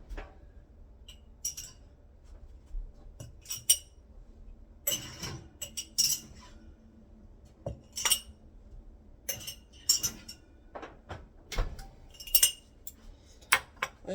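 Hot glass canning jars taken out of an oven after sterilizing clink and knock against each other and hard surfaces in scattered bright chinks and soft thuds, close by, with no talking.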